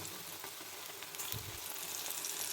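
Gram-flour-battered eggplant fritters frying in hot oil, a steady, faint sizzle throughout, with a soft low thump in the middle.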